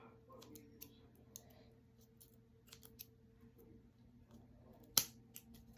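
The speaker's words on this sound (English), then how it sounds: "if you have any excess, cut it off" Scissors trim excess craft stick material for a homemade boomerang, making quiet close snips and clicks scattered through the stillness and ending in one sharper snap.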